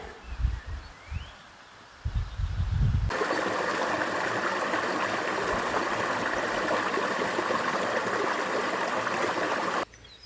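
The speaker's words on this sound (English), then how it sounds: "Hopefully you can hear the stream in the background." A stream flowing beside a campsite on a ride through Scotland: after a few seconds of low rumbling handling noise, a steady, close rush of running water fills the air, loud and continuous, with faint birdsong.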